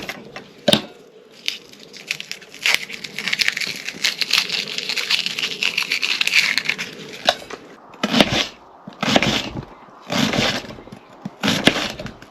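A knife slicing an onion thinly at a woodland campsite, with sharp cuts on a board at first, then a run of rapid chopping and several separate bursts of cutting, close and crisp.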